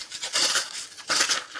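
A Cold Steel Milanese Cinquedea sword blade slices through paper in two quick, dry rasping strokes, close and fairly quiet, with no voices.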